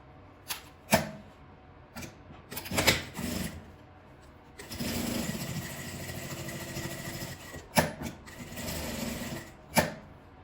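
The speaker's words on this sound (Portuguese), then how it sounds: "E vou passar uma costura, vou dar a volta nele todo." Domestic sewing machine stitching one continuous seam around a small coin purse keychain made from fabric scraps, heard in short bursts and then a sustained run of rapid mechanical whirring, close and fairly quiet, with no talking.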